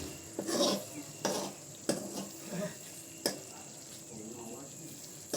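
Spiced peanut curry with garam masala is stirred in a pan on low heat: a series of separate scraping strokes over a faint, quiet sizzle.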